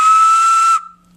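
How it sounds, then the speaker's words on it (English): A handmade clay pig whistle blown in one loud, steady shrill note for under a second, breathy and bright, then cut off abruptly into a faint lingering tone and near silence. "My working whistle."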